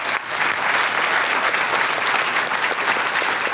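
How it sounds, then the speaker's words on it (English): An audience claps for a panel of women at a public discussion, steady dense applause that holds evenly for several seconds without any voices on top. "Yes, let's round of applause for them."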